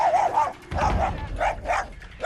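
A reactive dog barks and yips at other big dogs, a few sharp close barks in quick succession mixed with whiny yelps, loud and unaccompanied by talk.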